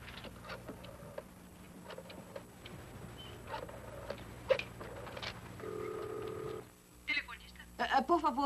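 A telephone being dialed in a scene from a 1988 action film: quiet room ambience and faint ticks, then a short run of electronic tones near the end.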